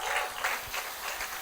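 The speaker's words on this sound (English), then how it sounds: "Please, a round of applause for Damilola." An audience claps steadily at a school speech contest, a dense, even wash of applause heard from within the crowd.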